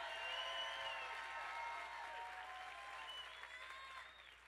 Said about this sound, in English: Give Inner City Action the loudest applause.